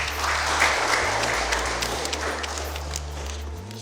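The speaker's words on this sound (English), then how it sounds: "Clap for me once again." Audience applause on a university quiz show, a dense steady patter running throughout the clip over a low hum.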